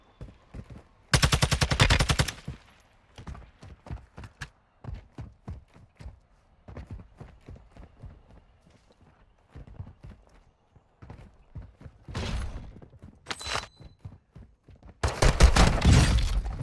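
Loud shotgun blasts from a Bryson 800 in the Warzone 2 battle royale, heard in several spaced bursts, with rapid clicking and clattering of gear and footsteps filling the gaps between shots.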